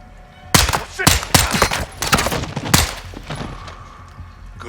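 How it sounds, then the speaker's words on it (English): Modern Warfare II campaign firefight: several sharp, loud gunshots crack in quick, irregular bursts, with shorter echoing pops trailing between them and fading toward the end. "Good shooting."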